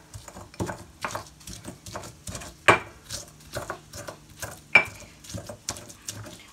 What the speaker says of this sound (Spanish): Y vamos a empezar a moler nuestra salsa.